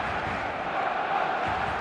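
Stadium crowd in an eFootball match roars in a dense, continuous wall of cheering and chanting, loud and steady throughout with no clear individual voices.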